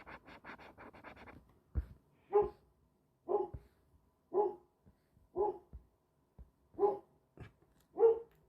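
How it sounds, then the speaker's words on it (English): A dog gives a series of short, separate barks at a steady pace from fairly close, with a few scratchy noises in between and no talk. "my doggy."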